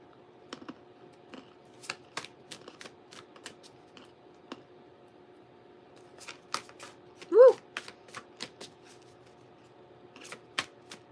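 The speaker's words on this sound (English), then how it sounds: "I was trying to teach my kid how to shuffle like this while we were gone." A deck of tarot-style reading cards being shuffled by hand, close and crisp, with scattered riffles and snaps and one louder burst near the middle, in an otherwise quiet room.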